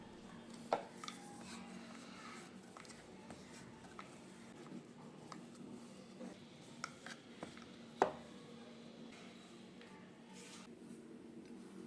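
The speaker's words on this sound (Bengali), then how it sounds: "এই একইভাবে সমস্ত লেচিগুলো আমি বেলে নেব" Methi paratha dough balls are rolled out with a rolling pin on a board, giving soft rolling scrapes punctuated by occasional light taps and knocks, close and fairly quiet, with no talking.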